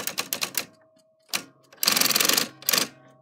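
A manual typewriter clatters in bursts: a quick run of sharp key strikes, a pause, a single strike, then a dense rapid volley and a final short burst, close and crisp with no talk.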